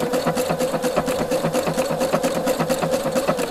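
A Husqvarna Viking sewing machine stitches steadily with a Spanish hemstitch foot, a close, fast, even mechanical whir with a constant hum and rapid needle clatter throughout.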